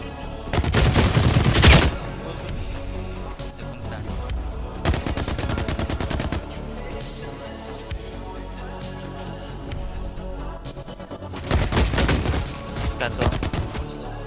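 Repeated bursts of gunfire in the video game The Cycle: Frontier, loud and rapid in three clusters, with game sounds between them and a player talking quietly underneath.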